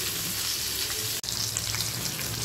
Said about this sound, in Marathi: दोन्ही साइडून बांगडा फ्राय झालेला आहे।